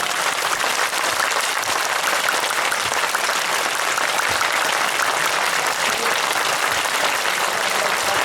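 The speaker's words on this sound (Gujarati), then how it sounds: "એક વાર જોરદાર તાળીઓ પડે ને ખબર પડે તમે બધા" Sustained, loud applause from a crowd at a Thakor community social gathering with Viramgam MLA Alpesh Thakor, dense clapping holding steady from start to finish with no pauses.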